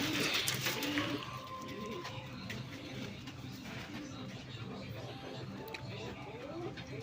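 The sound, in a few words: pigeons cooing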